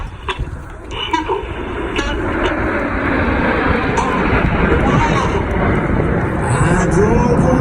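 Red Arrows jets at an air show make a broad, rushing roar that swells and holds steady from a distance, under a commentator talking throughout.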